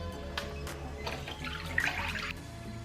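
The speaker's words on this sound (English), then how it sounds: "So I'm just going to drain this water now." Water drains from rinsed goat meat in a kitchen sink while Caribbean curry goat is being prepared. It runs and splashes in short bursts with a gurgle, close and moderately loud.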